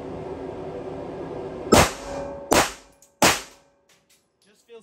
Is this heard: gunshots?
yes